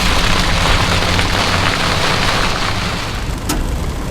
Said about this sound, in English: It was raining so hard I couldn't really see very good.